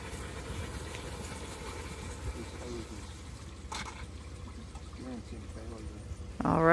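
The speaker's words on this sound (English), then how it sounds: "So we can open the valve there. Just let the black tank rinse out." Water draining from an RV black tank through an open dump valve at a dump station, a steady rushing gurgle that continues throughout, with a brief clank and some louder noise at the very end.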